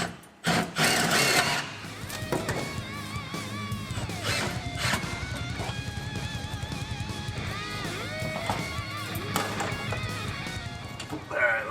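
A power screwdriver drives self-tapping screws through plumber's tape straps with a loud, sustained whirring buzz that rises and falls in bursts, while people talk over it nearby.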